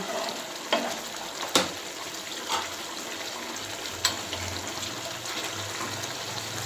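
Rohu fish steaming in a ginger-cumin sauce comes to a boil in a pan, a steady low simmering bubble with faint sizzle and a few soft clinks, close and even throughout.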